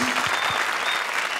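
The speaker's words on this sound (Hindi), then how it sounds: "जोरदार तालियां।" Loud studio audience applause on a comedy show set, a dense, even wash of clapping with no voices over it.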